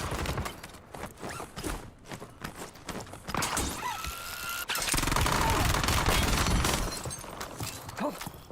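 Bursts of rapid gunfire in a Call of Duty Warzone match, loud and choppy, with sharp volleys early, then a sustained louder stretch of shooting and clatter toward the end.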